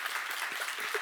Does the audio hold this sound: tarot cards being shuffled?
no